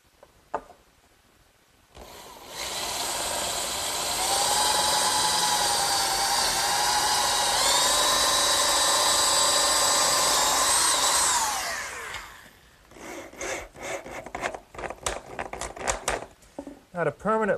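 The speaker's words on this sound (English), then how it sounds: "I'm just going to use a clamp to hold it together while I drill the holes." A power drill bores bolt holes through clamped wooden braces of a garden swing, whining steadily at close range for about ten seconds, then gives way to scattered knocks and handling clatter.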